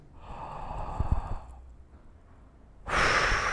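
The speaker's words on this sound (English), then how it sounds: "And just blow out naturally." A long, relaxed exhale is blown out through an open mouth during a beginner saxophone breathing exercise, close and breathy. It ends, goes briefly quiet, then a sharp, loud breath follows.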